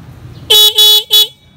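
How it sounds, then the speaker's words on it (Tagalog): Three loud, short car horn honks in quick succession, close by, with a brief gap between each blast. "Busina."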